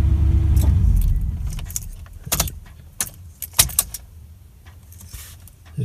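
Ignition keys jangle and click in the steering column of a 1981 Chevrolet C10 Silverado pickup, several sharp metallic rattles in quick clusters, close and fairly loud over a low rumbling background.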